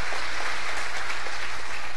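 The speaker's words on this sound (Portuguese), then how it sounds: "Dê uma salva de palmas ao nosso Deus, bem alto, bem forte" A church congregation giving loud, sustained applause during a worship service: dense, continuous clapping from many people, with no speech over it.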